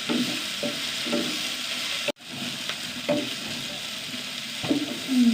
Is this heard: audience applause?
no